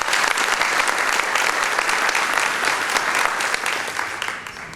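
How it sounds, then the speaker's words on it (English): Audience applause at a family Father of the Year award gathering, a loud, steady clapping from a crowd that carries through the whole stretch and eases slightly at the end. "Let's give Kevin a great round of applause."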